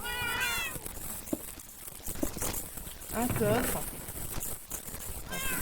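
Kittens meowing in the SurvivalCraft video game, a few short high mewing calls near the start and end, with a lower cluster of cries in the middle, all under continuous French speech and game background noise.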